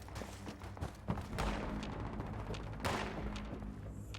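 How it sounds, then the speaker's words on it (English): Bursts of radiant rifle gunfire from the video game Fallout 76, rapid repeated shots with loud cracks, continuous and fairly close, with no talk over them. "You can hear his little radiant rifle."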